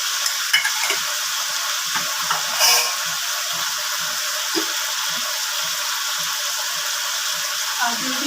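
Eggplant, potato, beans and drumstick frying in a pan with turmeric give off a steady hiss and sizzle, with occasional stirring scrapes and light clinks close by.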